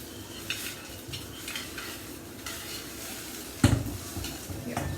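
Mixed vegetable dosa made with atta cooking in oil on a pan, giving a steady close sizzle and frying hiss, with occasional stirring scrapes and one louder clink of a utensil against the pan.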